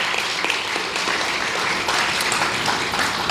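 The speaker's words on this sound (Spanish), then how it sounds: "Vamos a darle un aplauso a nuestros padres." A church congregation applauds the fathers during a service with dense, continuous clapping that stays loud and even throughout, without speech.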